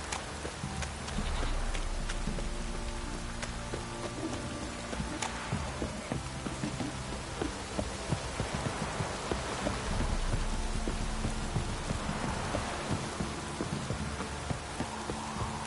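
Steady rain falls throughout, a dense, even hiss with scattered droplet taps and occasional louder splashes, with no talking.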